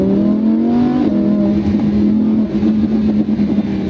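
Lamborghini Huracan engine holds a loud, close, steady drone, its pitch lifting slightly around the one-second mark and then settling. No one talks over it.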